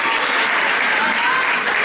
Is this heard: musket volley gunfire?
no